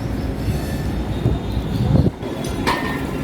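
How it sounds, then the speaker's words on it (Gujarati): A train stands at Vadodara railway station, giving a loud, steady low rumble with a brief metallic squeal near the end and no talk. "આ તમે સામે જોઈ શકો છો ટ્રેન ઊભી છે."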